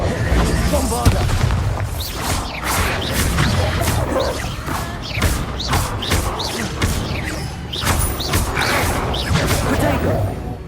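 A Bombarda blasting spell goes off in the video game Hogwarts Legacy, heard as booming, crashing explosions and whooshes within loud, continuous combat sounds, with a voice speaking through the action.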